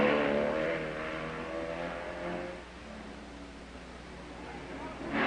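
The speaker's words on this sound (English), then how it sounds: "Wayne Krogsy and Bill Woods in the Triumph sidecar pass by." Triumph sidecar motorcycle racing past at the 1959 Greenhorn Enduro, its engine revving loud and near then fading as it moves away, with another engine rising at the end.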